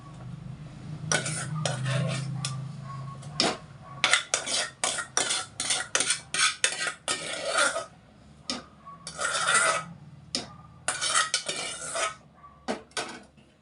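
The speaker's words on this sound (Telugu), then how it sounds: "సొరకాయ అంతా బాగా కలిసేలా కలిపెట్టుకోవాలన్నమాట" A spoon stirs grated bottle gourd into a pot of liquid for a sweet payasam, giving a run of close metallic clinks and scrapes in irregular bursts, with soft bubbling underneath at the start.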